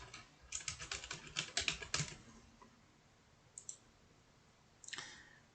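Quick bursts of clicking keys on a computer keyboard, a fast run of close typing followed by a pause and a couple of isolated clicks, fairly faint in a quiet room.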